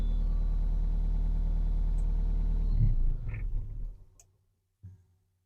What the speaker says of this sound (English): It's my folks starting up their truck